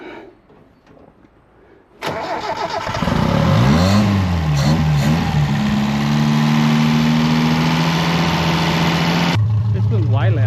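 Daihatsu F10 engine fitted with custom-built extractors exhaust revs up loudly and close, a rumbling idle with rising and falling throttle blips that settles into a steady drone, with people talking over it.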